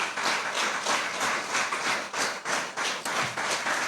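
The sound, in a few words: congregation clapping as an offering to the King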